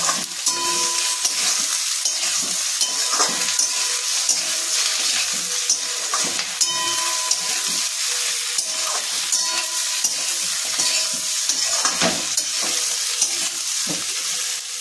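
Paneer cubes with onion and capsicum are stirred in a hot pan, a continuous close sizzle under repeated spoon scrapes and soft knocks against the metal, with no voices.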